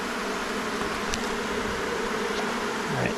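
Honey bees buzz steadily and loudly throughout an open beehive during a late-summer apiary inspection, a dense continuous drone with no talking.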